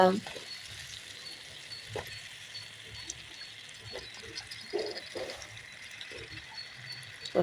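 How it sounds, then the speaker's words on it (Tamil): Chopped eggplant sizzling in a pan while being stirred and sautéed for kathirikai pachadi, a steady frying hiss broken by repeated soft scraping strokes of the spoon, close and moderately quiet. "பச்சை வாசனை போகிற அளவுக்கு நல்லா கலந்து விட்டு வதக்கணுங்க"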